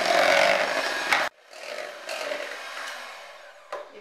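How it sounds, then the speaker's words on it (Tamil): Butter and condensed milk being beaten hard by hand in a bowl for an eggless vanilla cake, a loud continuous scraping and rubbing that breaks off abruptly, then resumes more softly with a brief knock near the end. "இந்த மாதிரி வெண்ணையும் கண்டென்ஸ்டு மில்க்கும் நல்லா மிக்ஸ் ஆன மாதிரி நல்லா அடிக்கணும்"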